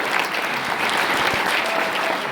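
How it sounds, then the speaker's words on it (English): Dense, steady applause from a concert audience fills an auditorium at a school winter band concert, a continuous wash of many hands clapping at even loudness with no voices above it. "I'd just like to give a round of applause to the whole town"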